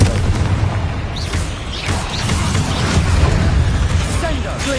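A Confringo blasting spell explodes in Hogwarts Legacy, a steady run of booming blasts and crackling bursts with rumbling low end that stays loud throughout, with no clear pauses between hits.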